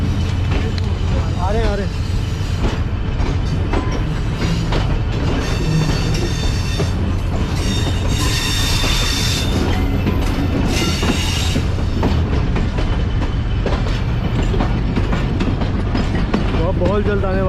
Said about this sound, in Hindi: ट्रेन में ट्रैक चेंज